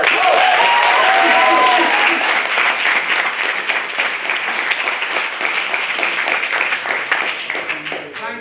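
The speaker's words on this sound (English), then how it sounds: "Another round of applause for a maiden speaker" A debate audience claps for a maiden speaker, loud sustained applause from many hands that thins slightly toward the end, with a voice briefly audible over it at the start.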